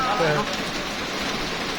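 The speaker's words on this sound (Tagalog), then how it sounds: "Ah, lakas ng ulan." Steady, dense hiss of heavy rain pouring down in Real, Quezon, loud and unbroken, with a faint voice briefly audible underneath.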